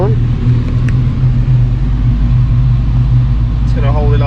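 Ford Focus ST engine on a dyno during wastegate setup, a loud continuous low rumble holding steady load throughout, close up.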